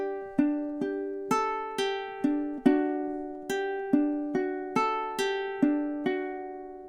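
Ukulele picking through measures 27 and 28 of a song, a run of about fourteen bright plucked notes in a steady rhythm, each ringing briefly, played alone up close.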